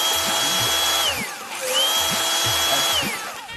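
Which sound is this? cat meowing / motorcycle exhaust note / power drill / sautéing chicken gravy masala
power drill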